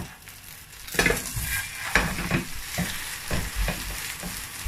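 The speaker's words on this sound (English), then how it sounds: "So I'm going to allow it fry for 2 minutes before I flick it over." An egg fries in a pan with a soft, continuous sizzle, broken by repeated scraping and clattering of a utensil against the pan at close range.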